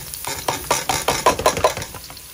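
Garlic drops into a pan of already fried onions for a restaurant-style chicken gravy, sizzling with a run of rhythmic stirring scrapes and spatters, close and alone.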